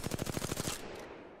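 An R-301 rifle fires in the video game Apex Legends: a rapid burst of about a dozen close, loud shots in even rhythm, stopping after under a second and leaving a fading tail.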